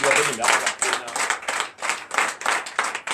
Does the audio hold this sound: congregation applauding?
yes